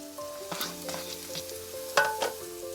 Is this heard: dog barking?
no